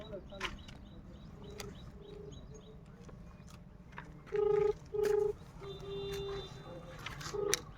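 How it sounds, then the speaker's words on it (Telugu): An unanswered phone call rings out as two or three steady electronic ringback pulses in pairs, moderately loud, over a murky background hum and faint chirps. "మీరు కాల్ చేస్తున్న సైదులన్న కూడా ఫోన్ లిఫ్ట్ చేస్తలేదు."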